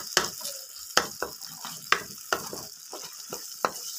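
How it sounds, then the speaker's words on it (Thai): Pounded canned fish stir-fried in oil in a pan, sharp scraping stirs of a spatula landing every half second or so over a soft, steady sizzle, close and alone without talk. "ก็เอาปลากระป๋องที่เราตำผัดเลยค่ะลงไปผัดเลยนะคะทุกคนผัดให้หอม"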